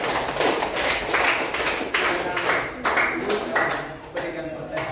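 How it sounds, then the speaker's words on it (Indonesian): A group receiving applause in a classroom session: scattered hand claps in uneven bursts, fairly close, mixed with some talking voices. "aplaus untuk kelompok"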